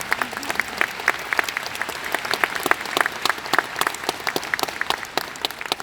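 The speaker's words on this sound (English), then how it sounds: "Yeah, you can give me an applause if you want there" Audience applause fills a live motivational talk hall, steady dense clapping with sharp individual claps throughout, sustained and fairly loud, no voices over it.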